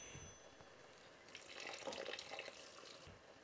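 Ten cups of water pour into a soup pot for split pea soup with sizzled spices, a steady splashing rush that builds slightly and then eases off.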